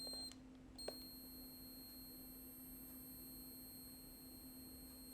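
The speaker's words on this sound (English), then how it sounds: "There's a very high-pitched beeping noise, and the camera's telling you your camera is on and your batteries are still in it" A Bell Howell T30XL Super 8 camera, left switched on with its batteries still in and its handle folded up, gives a steady, very high-pitched electronic beep. The tone runs faint and continuous at a low level, with no voices.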